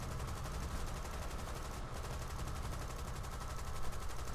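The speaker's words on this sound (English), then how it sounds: "I'm gonna just strafe some machine guns" Sustained machine-gun strafing from an RAF fighter in War Thunder's Dunkirk scenario, a dense continuous rattle of rapid fire running steadily throughout at close range with no pauses.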